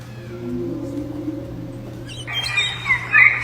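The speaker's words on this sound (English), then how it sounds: "If I take a whale and we speed the whale up," Sped-up whale calls that come out sounding like bird chirps, bright high tweets clustered near the end over a steady low hum, fairly close and alone.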